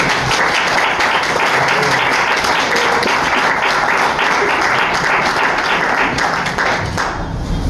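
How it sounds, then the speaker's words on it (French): Audience at a Toastmasters district gathering in Senegal applauds steadily, dense and loud clapping throughout and tapering off at the very end. "Je vais vous l'applaudir."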